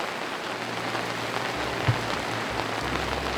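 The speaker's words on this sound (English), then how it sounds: "The rain continues" Steady rain falls on a wild campsite in the Spanish Pyrenees, a dense even patter with one brief louder tap and a low rumble beneath, no voices present.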